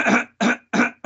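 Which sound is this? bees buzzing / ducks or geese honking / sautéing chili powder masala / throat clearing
throat clearing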